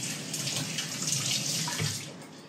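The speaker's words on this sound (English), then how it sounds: "Let me wash my hands." Running tap water pours steadily as hands are washed at a kitchen sink, a close, continuous hissing splash that tapers off slightly at the end.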